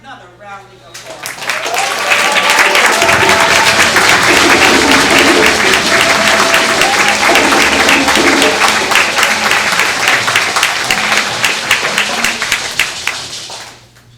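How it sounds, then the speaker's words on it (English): Sustained audience applause at a DC Council of Elders Kwanzaa Imani Night program, swelling after a brief start and holding loud and dense for over ten seconds before tapering, with voices mixed in. "So I would like for you all to get her another rounding applause"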